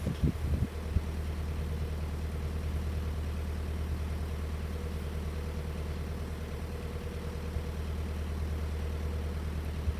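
A narrowboat's low, steady engine chugs continuously at an even idle-like pace while cruising, close by and unchanging, with no voices.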